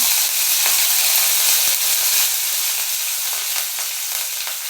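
Mustard seeds and curry leaves crackle and sizzle in hot oil, a steady loud frying hiss with scattered pops throughout, for a Maharashtrian buttermilk kadhi tempering.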